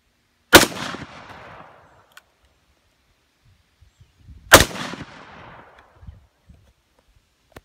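Two heavy revolver shots from a .500 or .460 Smith & Wesson ring out about four seconds apart, each a loud sharp blast with a long rolling outdoor echo, with faint rustling and movement in between.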